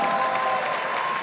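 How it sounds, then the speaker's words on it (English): Crowd applause at a leather event, a dense, continuous roar of clapping filling the whole short moment at steady loudness. "Let's give Yolanda a big round of applause!"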